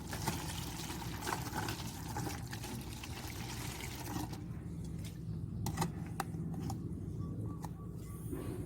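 Water is poured into a bottle holding dissolved red lime paste, a continuous gurgling pour for about four seconds that then drops to faint drips and small knocks, recorded quietly outdoors.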